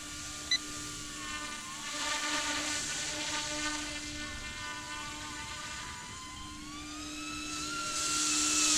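An Eachine E200 Pro SH-60 SeaHawk GPS RC helicopter whirs with a thin, high-pitched rotor and motor whine as it flies in a circle, its pitch wavering gently and the sound growing louder toward the end.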